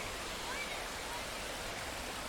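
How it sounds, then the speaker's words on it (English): A mountain waterfall in Maryland rushes in a steady, dense hiss of falling water, close and unbroken, with no voices over it. "Last look of the waterfall that we climbed up."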